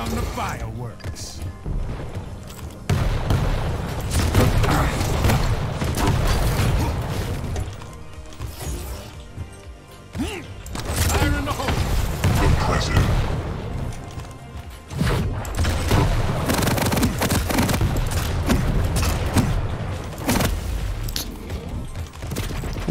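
Keel's grenades explode in the shooter game Quake Champions, a busy string of booms, crashes and rapid weapon fire bursting repeatedly over about twenty seconds amid dense, loud game action, with a player occasionally talking over it.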